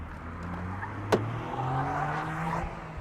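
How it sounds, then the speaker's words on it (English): A 2001 Honda S2000 on Bridgestone Potenza RE71RS tires driven hard around a small second-gear autocross-style track, engine droning steadily with a sharp brief knock midway, heard from inside the car. "This is the first time I've driven the S2000 in anger on a track."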